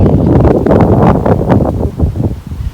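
Strong wind blows steadily across an outdoor rice field, buffeting the microphone with loud, constant rushing and rustling for the whole stretch.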